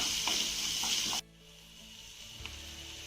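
A spoonful of garlic green chilli thecha goes into steamed peas in a pan: loud steady sizzling suddenly drops to a quiet low simmer, with a soft clink afterward.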